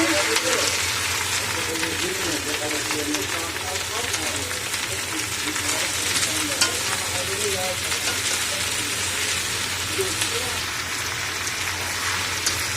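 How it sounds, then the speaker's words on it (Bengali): Chopped vegetables frying in oil for khichuri, a steady dense crackling sizzle throughout, with a person talking over it. "এই সবজিগুলো তেলে দিয়েছি, একটু ভাজা ভাজা করে নিচ্ছি"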